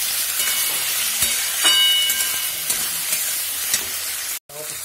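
Onion, chopped tomato and chilli fry in a pan, giving an even, close sizzle marked by intermittent stirring scrapes and a brief clatter toward the end.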